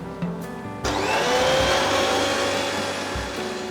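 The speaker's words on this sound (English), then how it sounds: "Okay, now I'll grind this into a smooth paste" A mixer grinder whirs steadily as it grinds cumin and turmeric masala into a smooth paste, starting abruptly after a brief click and running loud and continuous for several seconds.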